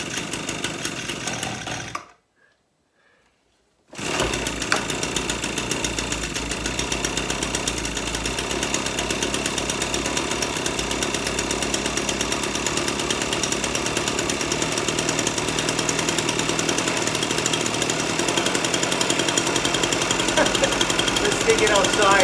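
An ECHO PB-260L two-stroke engine runs, cuts out briefly, then restarts and runs at a loud, steady, buzzing pace close by for many seconds.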